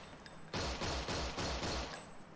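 A rapid burst of gunfire from a scene in the TV show LOST, a dense crackling volley of several quick shots lasting about a second and a half, heard at moderate level with no talking.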